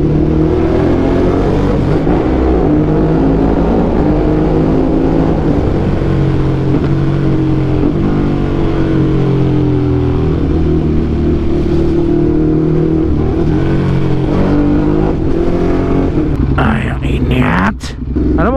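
A low-model motorcycle engine revs steadily while riding, a loud continuous drone rising and falling in pitch for most of the stretch, with a brief scuffle of other noise near the end.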